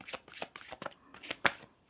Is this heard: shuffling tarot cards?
yes